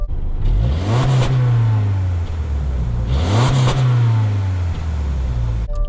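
A 2024 Subaru Forester Premium's engine is revved twice in close succession, each rev climbing sharply and then easing back to a steady, loud idle hum, heard up close with no talking.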